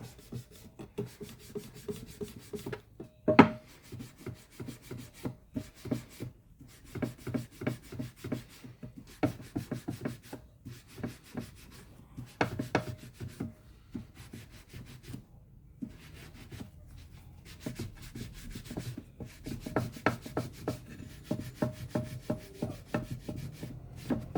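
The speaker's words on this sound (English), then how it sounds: "I don't have this sander bolted down right now" Bench sander polishing the frets of a guitar neck after leveling and crowning, a steady close rasping rub in repeated strokes with brief pauses.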